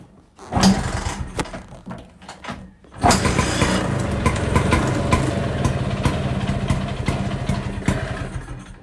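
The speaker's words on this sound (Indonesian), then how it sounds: "Aku kangen dengan langsamnya Vespa ini." A Vespa GS VS5 scooter from around 1958 to 1961 is started in a garage, with a couple of sputtering attempts before the engine catches and settles into a steady, close, rattling idle.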